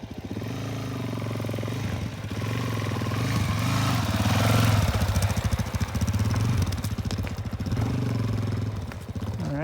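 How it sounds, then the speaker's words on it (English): A Suzuki 400 dirt bike ridden on a figure-eight dirt track, its engine loud and close, rising and falling in pitch as it revs, with a steady mechanical clatter throughout and no voices. "my companion in the camp is out here riding his Suzuki"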